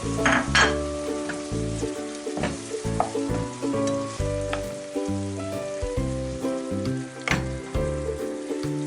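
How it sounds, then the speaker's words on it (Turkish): Chopped parsley is stirred into a sizzling frying pan mixture for a çökelek kavurması, with spoon scrapes and clinks against the pan over a steady close fry and no talk. "Bunları da şöyle biraz karıştırıyorum."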